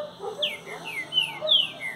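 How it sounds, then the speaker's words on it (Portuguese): Songbird singing in short whistled phrases, several rising and falling chirps in quick succession, clear and fairly close against a quiet background. "enquanto o passarinho estiver cantando bem"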